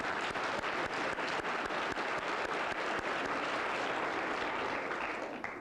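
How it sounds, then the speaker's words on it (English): Dense audience applause for a speech contest's judges fills the room, steady and sustained with many hands clapping at once, close and loud, fading slightly at the very end. "How about a round of applause for them?"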